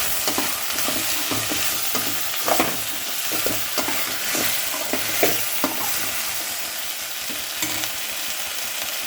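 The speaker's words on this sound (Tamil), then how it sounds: "எல்லாத்தையுமே காய் போட்டுக்கோங்க ஃப்ரெண்ட்ஸ். நம்ம வதக்கலாம்." Elephant foot yam and vegetables sizzle and crackle steadily in a hot pan, with occasional stirring scrapes and clinks, close and continuous throughout.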